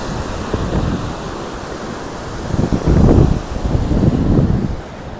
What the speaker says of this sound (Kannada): ಕಣ್ಣೇ ಬಿಡೋಕ್ಕಾಗಲ್ಲ, ಅಷ್ಟು ಗಾಳಿ ಬರ್ತಿದೆ